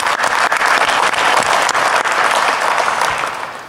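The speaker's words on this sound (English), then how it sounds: "can we give her a round of applause, please?" A large audience at the DEF CON 20 hacker conference bursts into loud, sustained applause, a thick roar of many hands clapping that holds steady and then begins to taper near the end.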